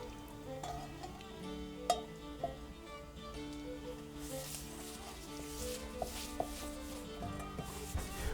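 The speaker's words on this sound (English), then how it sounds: "I've got this pan heated up just like I heated up the other piece, and we're going to put oil on it" Oil being rubbed onto a heated cast iron pan while seasoning it: a soft, steady sizzle with scattered small scrapes and clicks close by, and no talking.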